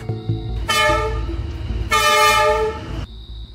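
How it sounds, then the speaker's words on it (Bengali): Train whistle in an animated horror story, two loud sustained tonal blasts, each lasting over a second, separated by a short gap over a low rumbling background. "এমন সময় ট্রেনের হুইসেলের শব্দ শুনতে পাই"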